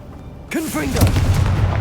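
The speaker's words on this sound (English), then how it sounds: "Confringo!" A Confringo fire spell from Hogwarts Legacy bursts with a loud booming blast, and a rushing, rumbling roar rolls on after the impact.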